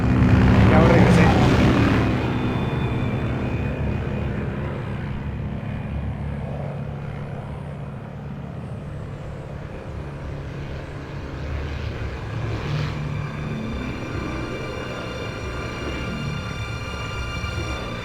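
A large aircraft drones high over Pakistan at 30,000 feet in Metal Gear Solid 3: Snake Eater, a loud engine roar that swells at first and then settles into a steady, slightly fading rumble, with a voice speaking over it.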